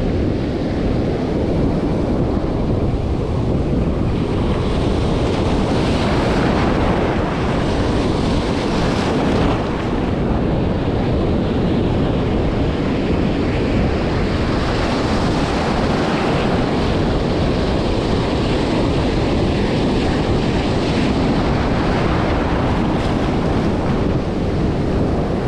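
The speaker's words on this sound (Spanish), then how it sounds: "y la secuencia de olas." Ocean surf breaks on a beach during surf fishing for flounder, a loud, continuous roar of waves mixed with wind buffeting the microphone, with no talk.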